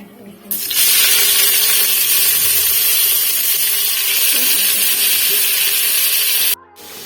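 Sliced onions sauté in a pressure cooker for chicken biryani: a loud, steady sizzle with scraping stirring, starting abruptly and cutting off near the end.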